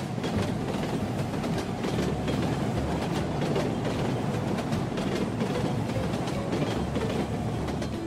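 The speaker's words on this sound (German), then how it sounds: "Das heißt, gleich wird ein Zug kommen." A wooden toy train clatters along steadily, a continuous rumbling rattle of wheels running close by for the whole stretch, with no voices.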